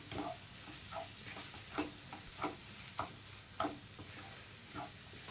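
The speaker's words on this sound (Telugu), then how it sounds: "ఈ మసాలాలు మొత్తం కొంచెం ఫ్రై అయినంత వరకు కలిపేసుకోవాలి." Masala spices for mutton paya curry fry in a pan while being stirred, soft rhythmic scraping strokes about every half second over a low, continuous sizzle, close and fairly quiet.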